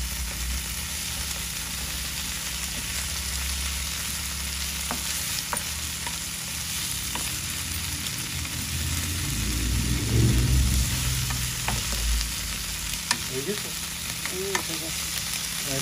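Vegetable bhaji with green chilies frying and being stirred in a pan, a steady sizzle with scraping strokes of the spoon, close and continuous with no voices.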